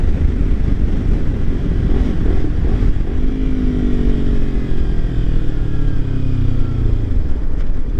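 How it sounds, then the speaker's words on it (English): Strong, steady wind roars across the microphone while a Ninja 300 motorcycle is ridden, its engine tone rising and sliding underneath the continuous loud buffeting. "The wind is strong"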